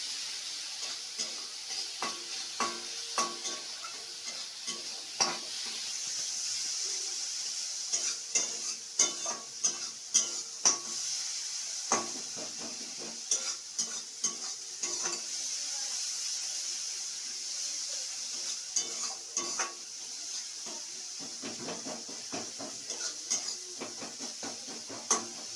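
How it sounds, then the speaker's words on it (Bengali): Masala paste stirred and fried in a pan for a rohu fish roe dish, with a steady sizzle under repeated scraping and clinking of a spoon against the pan, close and continuous with irregular louder knocks. "এবার ভালো করে মশলাটা কষাবো"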